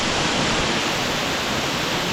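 A jungle waterfall in Bali, swollen with heavy water flow, roars as a dense, steady rush of white water, loud and close, with no voices over it.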